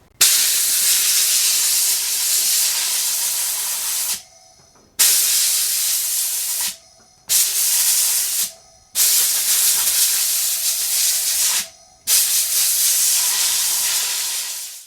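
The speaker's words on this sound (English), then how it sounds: "as I blew that the board with the air compressor, I could literally see bits changing colour" Compressed air from an air compressor blasts dust off a Tandy 1000 main board in five long, loud hissing bursts, each several seconds, separated by short silent gaps.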